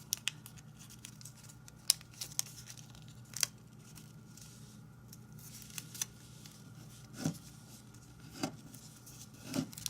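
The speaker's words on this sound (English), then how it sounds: "let's fold this flap up like this, and let's fold it behind" Paper being folded into an origami Pokémon ball, with quiet crinkles and sharp creasing snaps at irregular intervals over a low steady background hum.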